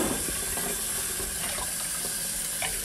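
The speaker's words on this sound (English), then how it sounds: "Rinse off another strawberry." Running tap water splashing over a strawberry being rinsed in a kitchen sink, a steady moderate hiss with small shifts in splashing.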